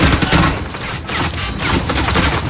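Dense automatic gunfire from the Modern Warfare video game, continuous overlapping bursts and shots sustained loud and close throughout, with no clear talk over it.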